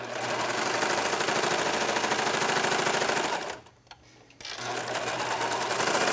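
A serger sewing machine stitches knit tank-top panels in a fast, steady close-up whirring chatter, stops briefly for about a second, then starts again.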